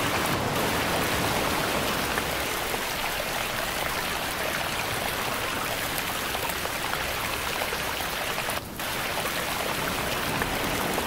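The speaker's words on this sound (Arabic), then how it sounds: "أصوات طبيعة، بحر مع مية مع مطر مع هوا،" A layered nature soundscape of sea, running water, rain and wind plays as a continuous dense hiss of pattering drops and flowing water, steady and fairly soft, with a brief dip near the end.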